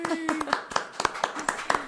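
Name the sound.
round of applause in podcast studio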